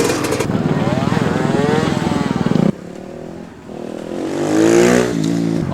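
A motorcycle at a wheelie practice session, its engine revving hard and steady, then dropping away before building again as the bike pulls off, loud and close with no talk.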